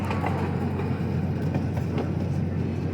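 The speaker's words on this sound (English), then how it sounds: "Our little train, it's about a 1/3 size replica of the 1863 C.P. Huntington." A one-third scale replica of the 1863 C.P. Huntington locomotive runs on a ride train, giving a steady low rumble with faint rhythmic clicks throughout.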